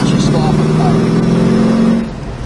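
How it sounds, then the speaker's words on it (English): A 1969 Chevrolet Camaro exhaust rumbles with a deep, throaty, steady tone, held close for a couple of seconds before easing off, with a voice speaking over it. "Nice sound of the exhaust."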